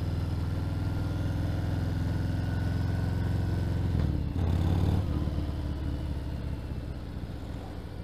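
A Harley Davidson Fat Bob motorcycle engine rumbles steadily and close during a ride, a loud continuous low drone with a brief clunk midway before settling back into the same throb.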